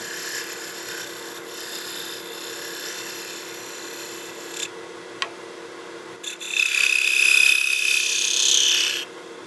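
A lathe tool scrapes a small chamfer on a thin wooden bat house ornament, a steady dry rasping with a sharp tick midway and a brighter, louder cutting burst near the end.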